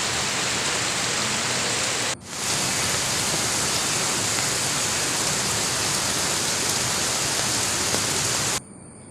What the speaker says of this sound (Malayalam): മഴ രൗദ്രഭാവത്തിൽ പെയ്യുകയാണ്